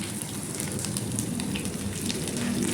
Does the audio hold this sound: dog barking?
no